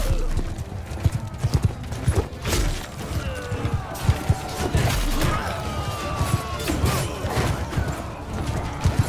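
Horses gallop in a Mount & Blade II: Bannerlord battle, a rapid clattering of hooves amid clashes, crashes and crowd noise, with someone speaking over the chaotic, dense din.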